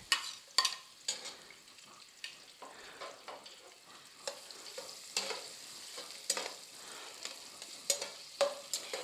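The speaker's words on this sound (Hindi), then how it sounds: "ये मैंने ना हाफ़ कप ऑयल का लिया है और इसमें मैं ये अनियन डाल दूँगी" Chopped onions fry in half a cup of oil, a soft sizzle broken by irregular scraping and stirring clatters, fairly quiet and close, with nobody talking.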